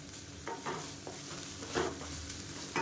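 Cauliflower side dish being stirred in a pan, soft scraping strokes over a low steady sizzle, no voices.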